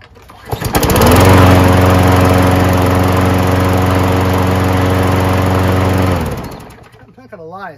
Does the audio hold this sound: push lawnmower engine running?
yes